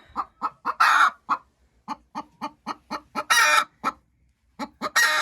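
A hen cackles loudly right after laying an egg in a nest box, a rapid run of close, sharp clucks broken by a few longer, harsher squawks, with no voices.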